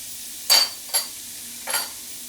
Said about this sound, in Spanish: Y vamos a rehogar un poquito de harina